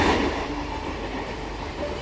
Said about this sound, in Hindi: और ये देखिए मुंबई मेट्रो की रफ्तार